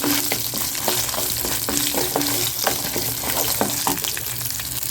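Five dried red chillies roasting in a pan for horse gram chutney, a continuous crackling sizzle with small stirring taps and scrapes, close up.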